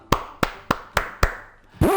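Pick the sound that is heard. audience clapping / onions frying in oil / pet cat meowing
audience clapping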